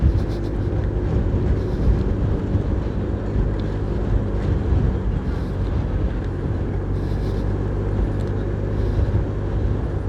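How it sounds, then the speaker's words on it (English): A heavy southeast wind roars across the microphone at a tropical race on open water, a loud constant rushing buffet with no speech over it. "The heavy southeast wind, heavy southeast wind hitting these guys."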